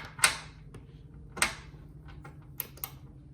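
A torque wrench tightens a Cusco front strut tower brace bolt on a Subaru WRX STI, producing a few sharp mechanical clicks and creaks spaced about a second apart in a quiet garage.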